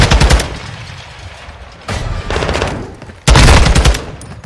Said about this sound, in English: getting a very nice hip fire shot